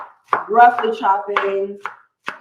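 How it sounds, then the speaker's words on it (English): Several sharp knife chops on a board as butter lettuce is roughly cut for a salad, four distinct strikes spaced irregularly over a sustained tonal, voice-like hum. "And then only thing that you're doing is just roughly chopping"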